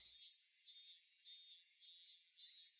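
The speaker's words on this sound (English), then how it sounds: "as I lay here listening to the voices of the cicadas" Cicadas drone in the Higurashi video game, a high, continuous shrill chorus that swells and fades in slow regular pulses, with nothing else heard.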